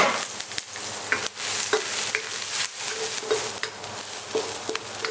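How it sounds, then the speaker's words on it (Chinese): Scallion, ginger and dried chili sizzle and crackle in a hot oiled wok, with a spatula scraping and tossing them in quick, irregular strokes close by and no voices. "先炒葱姜干辣椒，"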